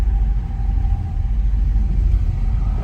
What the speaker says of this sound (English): we're going to take this 1970 Chevrolet Nova for a test drive and see how it does